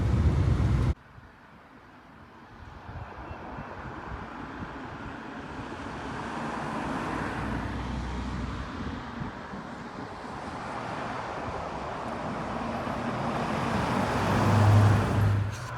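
Car driving along a winding mountain road in Virginia, a steady engine and road rumble with wind noise that grows slightly louder toward the end, no talking.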